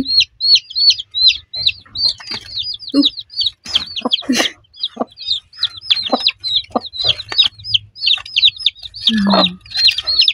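Newly hatched chicks of a hen's third brood peep in rapid, high, repeated chirps close by, while the hen adds occasional low clucks and short sounds break in.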